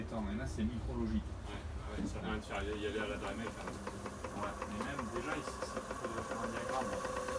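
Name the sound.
small nitro engine running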